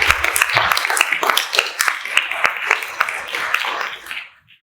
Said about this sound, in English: Can we please welcome her with some applause?